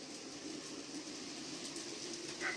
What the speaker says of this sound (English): I hope the hell it's picking up the sound of the clackety clack like it used to